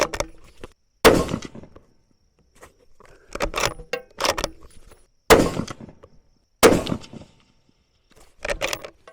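A Franchi Momentum Elite bolt-action rifle firing at an outdoor range: a few loud, sharp reports spaced seconds apart, each trailing off quickly, with quieter handling clicks and rustles in between.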